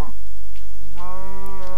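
A Minecraft cow lets out one loud, drawn-out moo that starts about halfway through, with a few faint game clicks around it.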